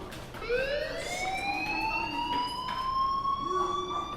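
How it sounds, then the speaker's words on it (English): A fire alarm in the Life is Strange video game wails with a steady rising tone, loud and continuous, with no talking over it. "Hey, do you hear that fire alarm?"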